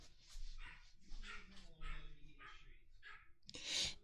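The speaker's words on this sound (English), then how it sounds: "I'm very sorry about the dog barking." An excited dog barks and yips repeatedly at dinner time indoors, with short, fairly faint barks in a quick irregular series.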